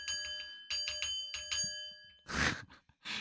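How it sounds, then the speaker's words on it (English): A small bell rings several times in quick succession, clear sustained ringing tones with short gaps, followed by a heavy breathy exhale and a sigh. "Let me ring that fucking bell."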